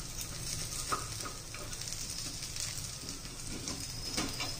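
Mung bean and rice appe fry in an appe pan with a steady close sizzle and soft crackle, with faint stirring and scraping touches and no talking.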